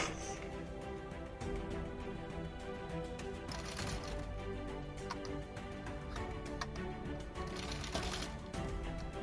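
A sewing machine runs a plain half-inch seam on a baby top, its rapid needle clatter steady and close throughout, with brief pauses and faint handling.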